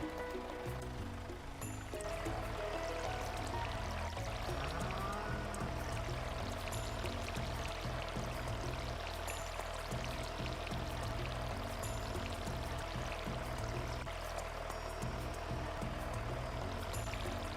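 Watering crops with a watering can in the video game Stardew Valley: a steady, continuous pouring stream of water that runs unbroken for the whole stretch, with no voices.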